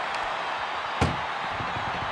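An ambulance door slams shut at a wrestling match, one sharp loud bang halfway through, over constant arena crowd noise.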